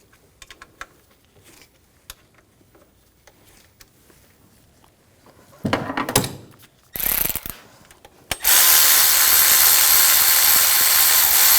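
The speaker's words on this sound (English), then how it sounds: "I'm going to loosen up these bolts." Ratchet with a 13mm socket working bolts on a 2004-2009 Audi A4 during a timing belt and water pump job: scattered clicks and taps, then short bursts of loud ratcheting, ending in a long, loud, continuous noisy stretch.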